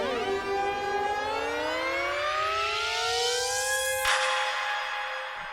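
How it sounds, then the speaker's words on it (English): A tonal synth riser in a pop production climbs steadily in pitch across two octaves for about four seconds, then cuts off abruptly, leaving a brief reverberant tail. "we're again using this tonal pitch riser, but now we're pitching it up over the course of 2 octaves."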